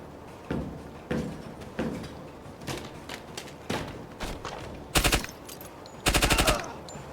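Gunfire in the tactical shooter Door Kickers 2: scattered single shots at first, then two sharp rapid bursts of automatic fire near the end, crisp and close over a quiet background.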